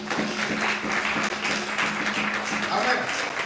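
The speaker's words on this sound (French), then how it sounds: "On peut acclamer le Seigneur pour ça." A church congregation claps and cheers in praise of the Lord, a dense, sustained wash of applause with voices mixed in, steady and loud throughout.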